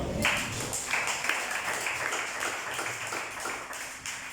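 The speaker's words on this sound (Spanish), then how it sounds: "Den un aplauso al Señor" Church congregation clapping for the Lord during a sermon, a fairly quiet, steady patter of many hands that continues evenly and tapers slightly at the end.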